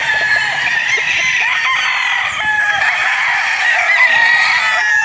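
A white bulik gamecock crows close and loud in a grassy yard, one long sustained call filling the whole span, with no talk.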